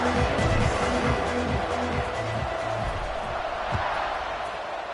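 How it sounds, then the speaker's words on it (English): A loud, steady crowd roar fills a college football stadium after a score as the home side lines up to kick off against TCU. It is dense and continuous, with a low rhythmic pulse running beneath it. "this crowd is buzzing after that last score"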